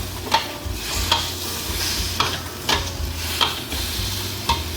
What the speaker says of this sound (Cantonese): 河粉開始滋鑊啊！